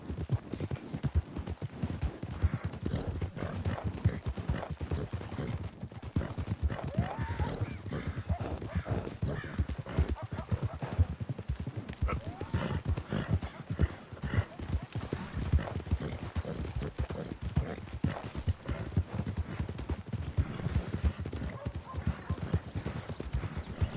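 Horse hooves clip-clop steadily in the video game Red Dead Redemption 2, a loud, continuous rapid rhythm of a riding horse close up, with faint snorts and game ambience beneath.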